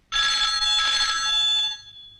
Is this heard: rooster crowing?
no